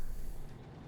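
Heavy truck engine in SnowRunner, a low, steady rumble with hissing air-brake texture, loud and close, fading slightly toward the end.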